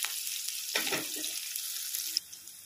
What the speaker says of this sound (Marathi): अगोदर कांदा मस्त असा भाजून घ्यायचा